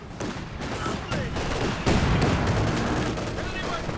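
Machine gun fire in Company of Heroes 2 from LMG Grenadiers in a 4v4 battle on Lanzerath, dense rattling bursts with booming artillery and explosions packed tightly together, loud and continuous throughout.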